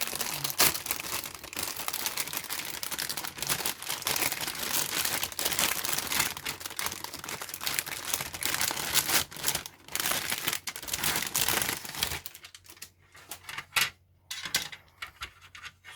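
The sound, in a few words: large plastic bag of model kit parts crinkling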